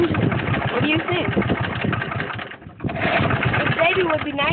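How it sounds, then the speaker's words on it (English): An old corroded engine on a Model T go-kart running with a steady chugging rumble, close by, while people talk over it throughout. "An old corroded engine."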